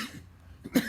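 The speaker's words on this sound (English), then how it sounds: "Excuse me, I coughed." A single short cough from an adult man, close to the microphone but fairly quiet, following a brief pause in his talk.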